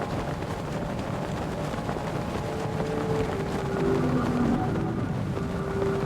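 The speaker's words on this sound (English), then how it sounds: "I'm gonna need another gust of wind here." Steady wind rushing through a gust in The Legend of Zelda: Breath of the Wild, a loud, continuous broadband whoosh with faint tonal hums beneath, swelling slightly toward the end, with no talk.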